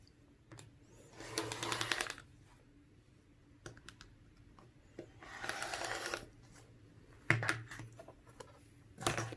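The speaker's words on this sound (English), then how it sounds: "Line up our ruler one more time and cut the other side." T-shirt fabric is cut along a ruler for a quilt in two or three short, soft rasping bursts, with scattered light clicks and quiet gaps between, faint and close.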